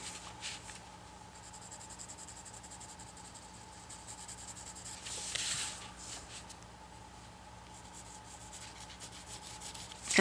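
Colored pencil shading pink onto paper, a soft, steady scratchy rubbing that continues close up and quiet with no talk.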